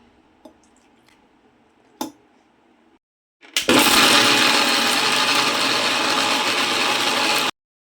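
A mixer grinder grinding chutney with salt and water starts with a loud whir and runs steadily for about four seconds before cutting off, following a few faint clicks and taps.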